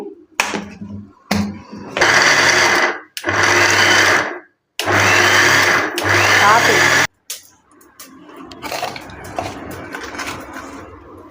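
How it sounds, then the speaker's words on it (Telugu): A kitchen mixer grinder blends ragi cake batter in several loud whirring bursts of a few seconds each, broken by short pauses, then gives way to quieter clatter and background noise. "ఇంక ఇవన్నీ మిక్సీ పట్టేసుకున్నాము"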